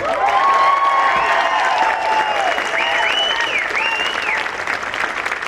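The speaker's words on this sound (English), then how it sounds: "The level of humility that you have to put on that uniform deserves a round of applause" Rally crowd at a Back the Blue event in Cave Creek, Arizona applauds police officers, a dense, steady wash of clapping with some cheering and whistles, loud and sustained throughout with a voice faintly over it.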